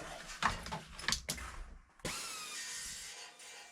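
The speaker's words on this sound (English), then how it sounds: "I'll get the air sander into that and we'll get the sharp edges taken off" An air sander smooths the sharp edges of a metal front end panel on an Austin Mini: a few short grinding bursts, then a steady, close, buzzing whir that runs alone to the end.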